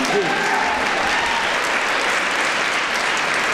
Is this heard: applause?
yes